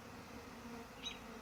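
Bees from a swarm give off a faint, steady buzzing hum, soft and distant with no other sounds over it.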